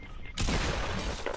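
Gunfire in the video game Fortnite, a short loud burst of rapid shots that erupts suddenly and fills the brief moment.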